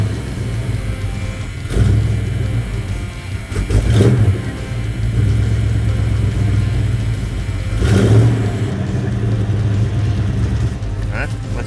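A car engine runs after a transmission pan gasket replacement, idling with a steady mid-low hum and rising in several loud revs. The revs are spaced a few seconds apart and come from close by.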